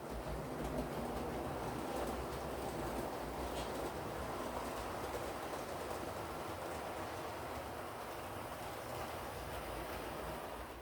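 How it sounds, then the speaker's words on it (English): Model trains circle a home layout with a continuous low rolling rumble and faint rhythmic clatter of wheels on track, steady and moderately quiet for the whole stretch, no voices. "Sometimes I like to watch my trains running around my layout from this particular vantage point."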